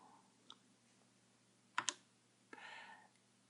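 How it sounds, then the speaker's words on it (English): A single key press on an Apple IIe computer keyboard gives a faint, close, sharp double click against quiet room tone, followed by a softer click. "Now correct the error by typing the E key."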